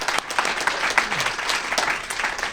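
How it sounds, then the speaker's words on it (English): An audience at a university debate event gives a round of applause, a steady wash of many hands clapping at close range without a break. "Let's give another round of applause for Professor Duran."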